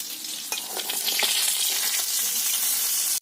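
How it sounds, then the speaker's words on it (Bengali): Fish and egg papad fry in hot oil in a village kitchen, giving a dense, close sizzle with crackles and a few stirring clicks, constant throughout before a brief cutoff at the end. "ওইদিকে আম্মু পাপড় ভেজে নিচ্ছে, আর আমি এদিকে মাছ ভেজে নিচ্ছি"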